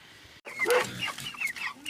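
Broiler chickens cluck in a coop, a busy run of close, overlapping clucks and short calls that start abruptly after a brief pause.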